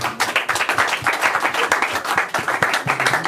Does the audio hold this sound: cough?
no